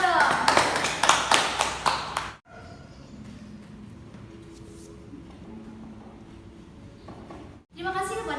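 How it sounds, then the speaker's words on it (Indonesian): Classroom of students clapping for a presenter, dense overlapping claps for about two seconds, then a stretch of quiet room murmur, with another brief burst of clapping at the very end. "beri tepuk tangan dong"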